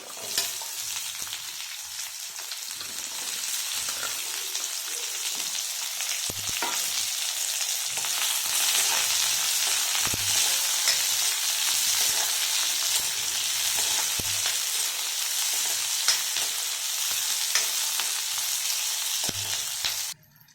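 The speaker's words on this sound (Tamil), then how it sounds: "வெங்காயம் ரொம்ப வதங்கணும்னு தேவையில்லை, ஓரளவுக்கு செவந்தா போதும்." Onions sauté in a pan for kara chutney, a continuous loud sizzle with occasional stirring knocks and scrapes throughout, no talking over it.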